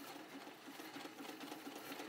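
Treadle sewing machine running on a newly fitted belt, a steady fast rhythmic whirring and clatter, close and faint, with no talk over it.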